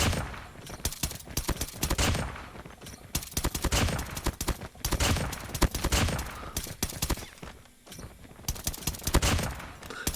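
M1 Garand rifle fire in Call of Duty Mobile, rapid repeated sharp shots in uneven bursts with short pauses between, loud and close amid other battle gunfire.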